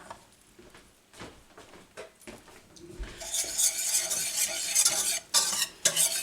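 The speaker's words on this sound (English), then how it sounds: "give this a good mix" Chocolate pie filling of cornstarch, salt, cocoa powder and vanilla stirred in a pan, soft scraping strokes growing louder and brighter partway through with a few clinks of utensil on metal, no talk.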